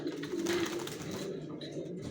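Racer pigeons, a male and female pair, give low soft cooing close by, a steady murmuring burble running throughout with no talk over it.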